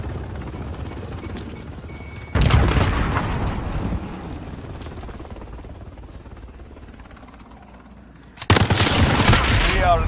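Bursts of Uzi submachine gun fire in the Modern Warfare video game come as two loud, dense volleys, the first fading into a long rumbling tail before a second sharp burst starts near the end.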